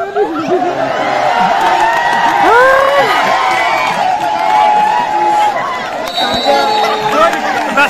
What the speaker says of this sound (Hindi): बाकी दर्शक काफी सारे हैं यहाँ पर, इनकी पार्टिसिपेशन के लिए तालियां बढ़ती हुई